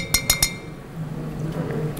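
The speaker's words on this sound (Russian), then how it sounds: "У меня тут ложка, если я ложкой перемешаю хорошенько, а то она у нас подосела уже." A spoon stirring liquid in a glass gives three quick bright clinks against the glass in succession, then a soft swishing of liquid being stirred continues faintly.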